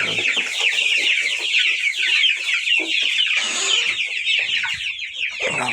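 Kuchinsky Jubilee chickens cluck and chatter continuously up close, many birds overlapping in a busy, steady flock noise.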